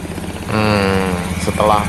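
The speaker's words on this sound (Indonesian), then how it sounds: "Setelah tutup cover CVT tutup, mesin dihidupkan" Honda Beat FI ESP automatic scooter engine starting in a workshop after the CVT cover is refitted, a steady close idle hum rising at once and running on with harmonic tones, with a brief spoken voice near the end.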